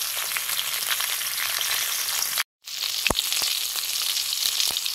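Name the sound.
hilsa belly pieces frying in oil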